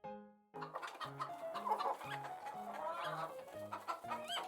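A hen clucks in a steady run of short repeated notes, fairly close, over a busy farmyard-like background, with no talking.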